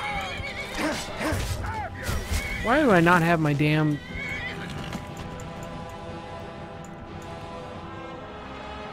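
In the video game Skyrim, a horse neighs loudly and shakily, a long wavering whinny, while someone talks over it and keeps talking after it ends.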